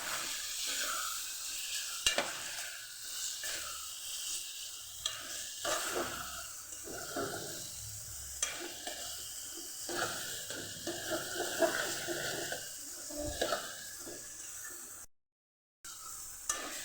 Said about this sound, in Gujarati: મસાલા સાથે આપણે ગવારને સરસ સાતળી લીધો છે